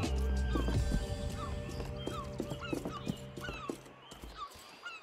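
Horse hooves clip-clopping in a video game, a quick irregular patter of hoofbeats over a steady background, with occasional whinny-like tones and a low game ambience.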